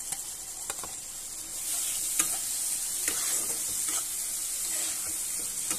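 Mustard paste sizzles steadily in a hot pan for a Bengali mustard curry with salted fish, with a continuous bright frying hiss and occasional soft stirring scrapes close by, no voices.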